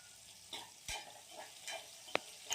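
Onions and garlic sauté in a pan, a faint sizzle punctuated by a few distinct scrapes and taps of a spoon stirring, close but quiet, with no one speaking.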